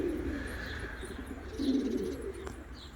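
A young pigeon gives soft, low cooing calls nearby over a steady hiss of background noise.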